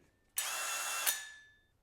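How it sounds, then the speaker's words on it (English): A Skil 12V compact drill turns a hole saw, giving one short, loud burst of whining, rasping cutting noise that stops abruptly and leaves a faint high tone fading out. "So you're going to use a hole saw with a 12 volt drill."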